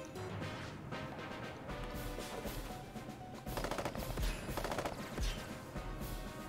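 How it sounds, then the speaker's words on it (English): Units opening fire in the Advance Wars strategy game, heard as bursts of rapid machine-gun-like shots and impacts at moderate level, clustering more densely in the second half, with no voices over them. "So they're just going to fire on me."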